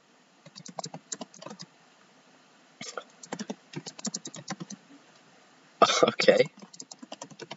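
Bursts of keyboard typing on a computer keyboard, irregular clusters of keystrokes with pauses between them and a louder flurry near the end, close by, with a brief spoken word.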